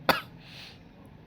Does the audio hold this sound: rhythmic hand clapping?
no